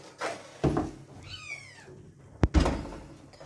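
A kitten gives one short rising-and-falling meow in a home kitchen, followed by a sharp thunk like a cupboard or door, with muffled voices and kitchen movement around it.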